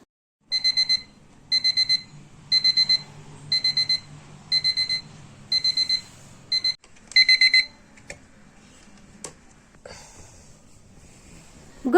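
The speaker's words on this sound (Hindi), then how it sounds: "मैंने अलार्म सेट किया था, अलार्म जैसे बजा मैं जग गई।" A morning alarm clock goes off at 4 a.m., giving repeated loud bursts of electronic beeping in an even rhythm that stop after about seven seconds, followed by quiet rustling and movement.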